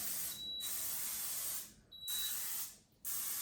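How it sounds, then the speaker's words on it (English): An aerosol can hisses in steady sprays over milkfish before it goes into a Power XL air fryer, with two short pauses between bursts and no talk. "and I'm just gonna spray it for a minute"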